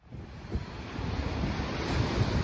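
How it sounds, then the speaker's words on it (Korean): Indian Ocean surf breaking against the foot of the Uluwatu sea cliffs in Bali, a steady, broad roar of waves heard from above, with wind noise buffeting the microphone throughout. "인도양의 이 파도를 보러 오는 곳이죠."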